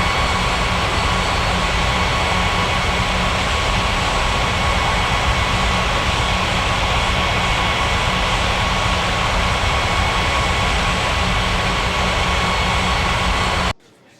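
A jet airliner taxiing toward runway 14 right at a fictional airport in an air traffic control game, heard as a loud, continuous engine whine and rumble that holds steady almost the whole time before cutting off abruptly near the end.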